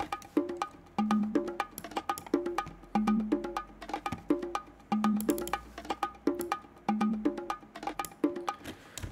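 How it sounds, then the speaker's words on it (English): A quantized bongo loop repeats in a tight, steady pattern of crisp hand-drum hits with a recurring lower tone, playing alone at moderate volume for several bars. "So my bongos will sound like this."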